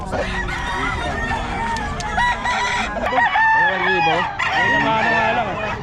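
A Sweater breed rooster crows repeatedly up close, loud drawn-out calls mixed with clucking from other chickens nearby.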